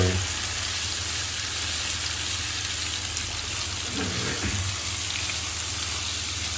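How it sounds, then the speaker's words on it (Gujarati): Spiny gourd vegetables are stirred with turmeric in a hot pan, making a loud, continuous, dense sizzle that holds steady from start to finish, close by and without voices. "હવે આપણે બધી વસ્તુને મિક્સ કરી લેવાની છે"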